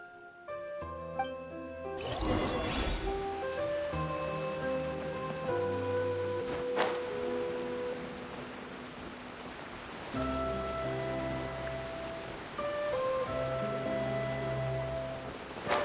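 Flowing water in the video game Genshin Impact runs as a steady rushing wash beneath layered, tonal background music, with a brief brighter swell near the start.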